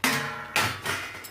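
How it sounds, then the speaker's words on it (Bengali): A lid set down on a cooking pot of mung dal with mixed vegetables, giving a sharp metallic clank followed by a second knock and a lighter rattle, close and fairly loud. "এবারে আমি ঢাকনা চাপা দিয়ে দিচ্ছি"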